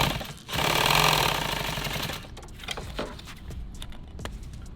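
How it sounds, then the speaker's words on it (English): Sewing machine running a short burst while hemming nylon tactical gear, close and fairly loud for about two seconds, followed by quieter handling and tapping sounds. "I just kind of sew it down, fold it over, sew it like that."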